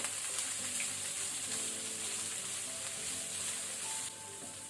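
Capsicum frying in a little oil gives a steady, close hiss of sizzling that runs unbroken and evenly loud throughout, dropping slightly near the end.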